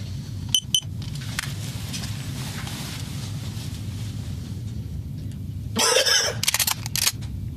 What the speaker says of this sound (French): J'ai juste toussé.